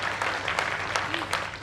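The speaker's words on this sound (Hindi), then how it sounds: "आप सब ताली बजाकर एक बार मुझे आदेश दे दीजिए।" An audience claps along at a live Hindi poetry recital in Khamnor, with quick, evenly spaced claps over a steady crowd murmur and some voices.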